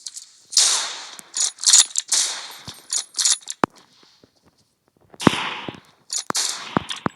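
Weapon reloading and gun mechanism sounds in the mobile battle-royale game PUBG Mobile with an M24 sniper rifle: a series of sharp metallic clicks and clacks in two bursts separated by a short silence, close and loud.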